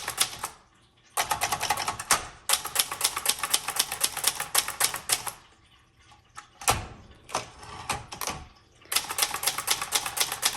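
A 1972 Brother Wedgefield 200 manual typewriter is typed on in fast, crisp bursts of clacking keystrokes, with brief pauses between runs, close and clear with no talking.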